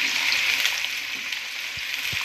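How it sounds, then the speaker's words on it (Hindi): Chopped onions go into hot oil with garam masala spices, chilli, cloves and cumin for a chicken kachnar curry, giving a steady, close, bright sizzle with a few soft stirring clicks and no voices. "तो ये गरम मसाला अच्छे से इसमें फ्राई हो चुका है। अब मैं इसमें प्याज ऐड करूँगी"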